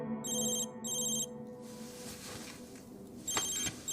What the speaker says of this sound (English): Seems like she's only just closed her eyes when her phone rings.